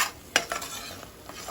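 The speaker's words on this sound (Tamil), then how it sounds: "மசாலா நல்லா ஃப்ரை ஆகிடுச்சு." Masala frying in a pan for a paneer gravy, stirred with a spoon: a few scraping clacks and brief spoon knocks over a low steady sizzle, close and fairly quiet, with no talk.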